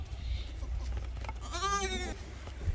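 A Hyderabadi goat on a goat farm lets out one clear, wavering bleat of about half a second over a constant low background rumble, with faint farm noise around it.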